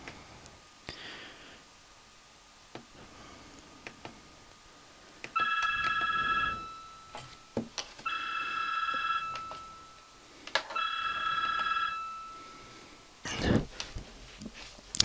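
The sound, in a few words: phone ringing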